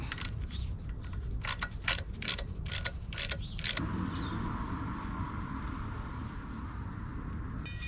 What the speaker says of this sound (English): The front screw is 1/2 inch, so I'm using that socket.